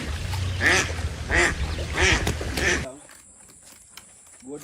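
Ducks quack loudly in a rapid series of nasal calls while being chased, several close honks in quick succession before the sound drops away to a quieter background.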